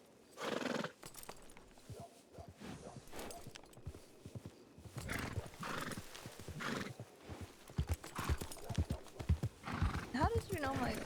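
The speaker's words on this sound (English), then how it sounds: "How did you know it was my horse?" A horse neighs and whinnies repeatedly while its hooves clip-clop at a walk, close and steady, with people talking over the sounds.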